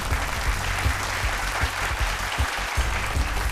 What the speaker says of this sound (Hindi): चलिए जोरदार तालियों से स्वागत किया जाए आज के 10